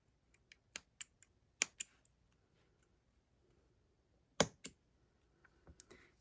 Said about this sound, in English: And then we can snip our ends.